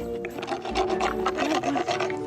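A veterinary rasp scrapes rhythmically over a pug's teeth, close and fairly loud, a rapid rasping rub with a steady hum underneath and no speech.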